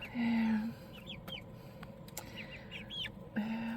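Chickens in a coop give short clucks and a couple of louder drawn-out calls at the start and end, close by over a steady background hum.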